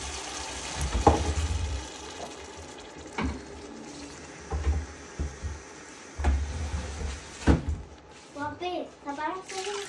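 Water is poured into a pot of Greek-style stuffed vegetables and rice in tomato sauce, giving several short splashing bursts between pauses while a person talks nearby.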